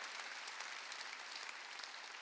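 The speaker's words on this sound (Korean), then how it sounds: "깨달은 사람만 박수치라고요" A church congregation applauds during a Sunday worship sermon, a dense, steady wash of many hands clapping at once that holds at an even level throughout with no voices over it.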